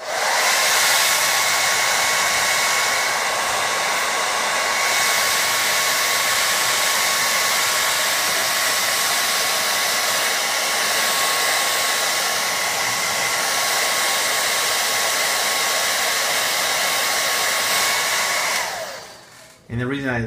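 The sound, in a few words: hair dryer heating glue on sneaker mod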